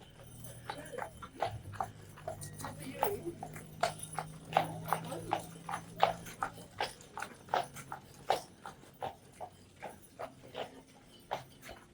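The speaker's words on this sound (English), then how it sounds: "Horse-drawn carriage." Hooves of a horse pulling a carriage clip-clop on a Main Street roadway at Christmas, a steady rhythmic series of sharp knocks drawing closer, with people talking nearby and a dog barking briefly.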